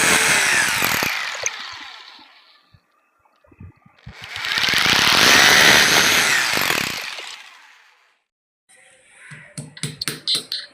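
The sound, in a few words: power drill drilling holes for a TV wall stand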